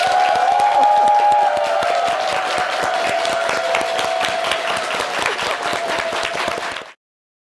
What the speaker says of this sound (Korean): 큰 박수로 보내드리겠습니다.